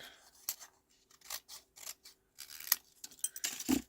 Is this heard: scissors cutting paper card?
yes